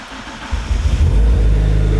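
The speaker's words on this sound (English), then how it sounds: "Good to start the car." A Mitsubishi Evo III with a carbon fiber exhaust and a small exhaust leak cranks briefly, then fires up. The engine rises into a loud, rumbling rev that holds steady close by.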